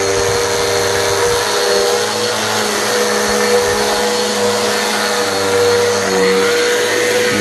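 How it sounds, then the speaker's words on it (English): A vacuum cleaner runs steadily across carpet, a continuous loud whine and hum with slight shifts in pitch as it moves back and forth. "start the pre-vacuum"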